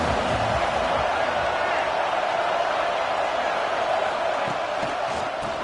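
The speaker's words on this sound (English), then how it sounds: "This crowd ready to make its presence known." A stadium crowd at a football game produces a steady, loud roar of many voices, continuous and broad, with a commentator's voice woven through it.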